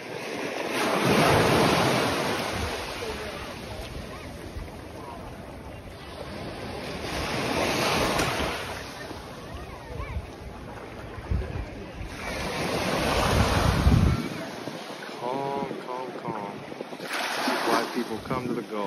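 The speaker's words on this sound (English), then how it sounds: "One small little break. A wave right at the shore." Small waves break gently at the shore of the calm, clear Gulf, rising and falling in slow surges every few seconds with a soft hiss of water and some wind, heard up close without talk.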